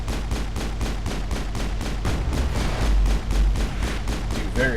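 Defensive turrets in the video game Mass Effect firing a rapid, steady stream of heavy shots, a loud, evenly spaced mechanical rhythm with deep booming impacts underneath.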